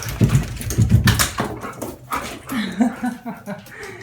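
A pet dog whimpers and yips in short bursts while playing indoors, close and fairly loud, with a person's voice cutting in over the noise.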